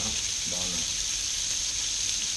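Beef steak sizzling in a hot pan, a steady bright frying hiss that runs evenly throughout, with a brief faint murmur of a voice near the start.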